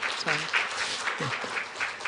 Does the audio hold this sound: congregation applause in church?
yes